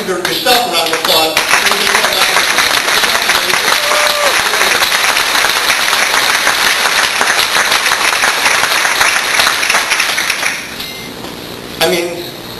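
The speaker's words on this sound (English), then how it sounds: "I want you to give yourself a round of applause." A gala audience gives a long, loud round of applause, dense clapping that holds steady for about ten seconds before thinning out and dying away, with a brief flurry near the end.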